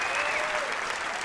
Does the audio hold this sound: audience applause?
yes